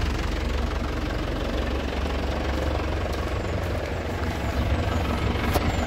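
A black 2010 Isuzu Panther LS Turbo diesel idles steadily, its low exhaust rumble and knocking engine note close and constant throughout without talk.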